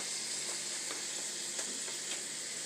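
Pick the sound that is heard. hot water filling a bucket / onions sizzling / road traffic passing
onions sizzling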